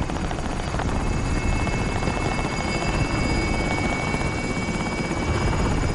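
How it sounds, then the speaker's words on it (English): Helicopter in Call of Duty Warzone, a steady loud rotor and engine drone holding throughout with a whining tonal hum, close and continuous with no talk over it. "Here's a chopper arrived."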